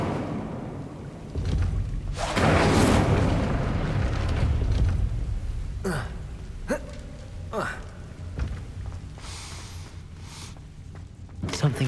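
The Incendio fire spell in the Hogwarts Legacy video game erupts in a loud roaring whoosh of flame, followed by fading crackles and a few sharp bursts, with no voices over it.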